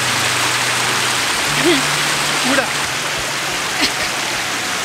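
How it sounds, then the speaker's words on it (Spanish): A clean, cold river in Iceland rushes in a steady broadband wash close by, with someone talking briefly over the flowing water. "vean qué bonito río nos acabamos de encontrar"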